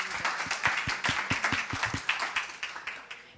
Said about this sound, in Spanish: Es un aplauso, por favor